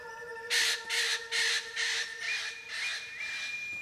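An Eclectus parrot gives a series of about seven harsh, raspy squawks in steady rhythm, close and loud, over a quiet background with a faint steady tone.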